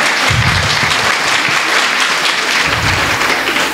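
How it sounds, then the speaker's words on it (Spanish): Loud, sustained applause fills a church during a wedding ceremony, a dense crowd clapping steadily throughout. "Vamos a dar un fuerte aplauso a Jesús."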